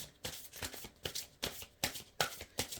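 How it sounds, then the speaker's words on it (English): Tarot cards are shuffled during a reading, a quick series of crisp riffling bursts repeating roughly every half second, close and fairly quiet, with no talk. "And this card loves to shuffle"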